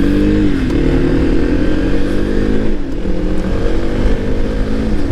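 A Kawasaki KLX300 dirt bike being ridden: a loud, close, steady single-cylinder engine drone with the pitch shifting up and down as the throttle and gears change, no talk.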